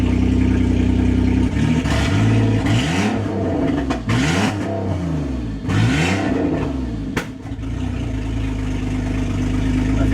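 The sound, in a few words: 2001 Ford Escape engine revving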